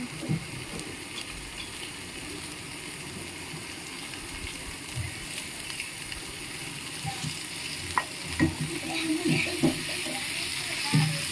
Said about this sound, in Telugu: మనం ఎంత బాగా ఫ్రై చేసుకుంటే పచ్చివాసన రాకుండా ఉంటాయి మసాలాలన్నీ.